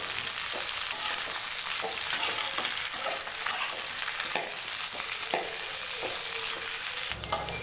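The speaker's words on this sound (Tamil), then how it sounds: "எண்ணெயில் நல்லா மிக்ஸ் பண்ணி லோ ஃப்ளேம்லேயே வதக்கிடுங்க." Brinjal (eggplant) pieces sauté in oil on a low flame, a steady close sizzle broken by repeated scraping and stirring strokes of a spoon against the pan.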